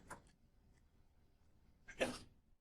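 One sneeze bursts out in a quiet room, a little off-mic, after a faint breath at the start.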